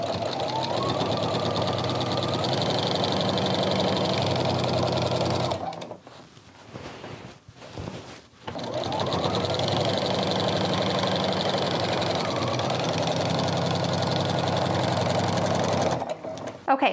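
A sewing machine fitted with a walking foot stitches straight quilting lines, running in a steady, loud mechanical whir that stops briefly for a few seconds midway and then resumes, with a voice talking over it.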